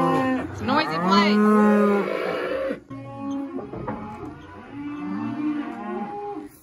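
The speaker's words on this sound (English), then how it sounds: "We call this group the house cows. Our old cows. Listen." Loud, drawn-out moos from cattle nearby, several long calls in a row with a brief pause between them.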